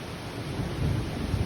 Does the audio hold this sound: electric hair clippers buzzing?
no